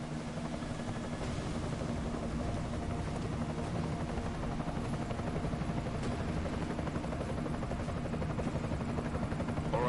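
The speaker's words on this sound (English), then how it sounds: "Enemy helo sighted." An enemy helicopter in a tactical shooter game roars with a steady, dense rotor and engine wash, loud and continuous throughout, with faint distant gunfire mixed in.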